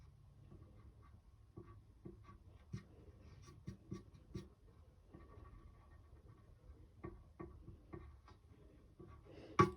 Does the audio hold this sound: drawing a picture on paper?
yes